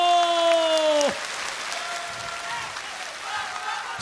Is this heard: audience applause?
yes